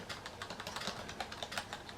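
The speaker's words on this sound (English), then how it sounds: "so here we have a keyboard" Rapid typing on the rubber dome keyboard of an InnovACE Black&White 310 laptop running Windows 95, a steady stream of soft, close key presses with slightly louder taps scattered throughout, no talking.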